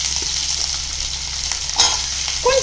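Dried red chillies frying in a pan for a Chettinad breakfast dish, a steady close sizzle with brief stirring scrapes near the end.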